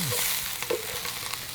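Steady sizzle of food frying in oil on a camp stove during a wild camp in Scotland, a continuous close crackling hiss with a few soft clinks and no talking.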